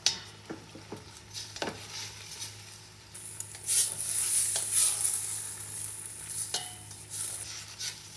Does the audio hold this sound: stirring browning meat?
yes